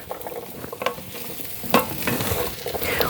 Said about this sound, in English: sweet potatoes are in the skillet, so now I'm just going to move them around because I want to get them coated with the butter